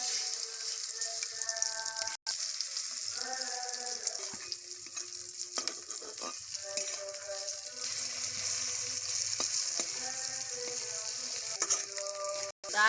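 Eggplant slices dipped in egg batter fry in hot oil in a wok, giving a steady close sizzle with crackling spits and a few clinks of the utensil, without talk.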